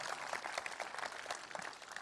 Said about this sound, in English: I was enjoying the applause